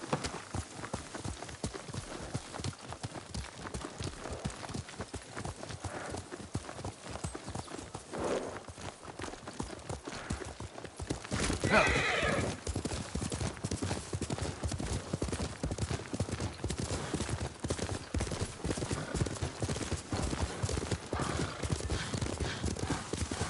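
Horse galloping under a rider in the Ghost of Tsushima video game, rapid steady clip-clop of hooves throughout, close and loud, with an occasional whinny and a brief spoken line.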